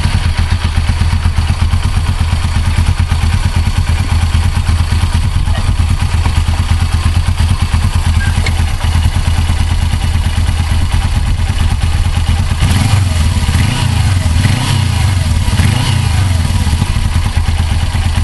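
A Suzuki GS500E motorcycle engine runs steadily and loudly close by, a constant low rumble with a rougher, clattering burst of revving in the last few seconds.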